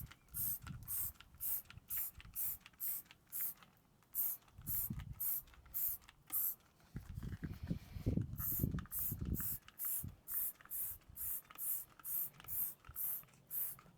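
Aerosol acid rust treatment sprayed onto the rusty underbody of a car, heard as a long run of short, regular hissing bursts at close range, with brief pauses and some low handling noise in between.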